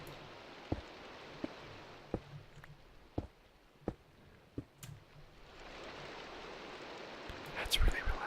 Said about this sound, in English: That's rain.